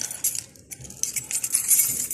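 Keys jangle and clink close by at a university dorm door, in a short, bright, metallic rattle.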